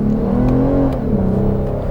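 A 2021 Lexus RC350 V6 revs steadily and loudly up through its range, a continuous throaty engine drone with a rising and falling pitch and no talking.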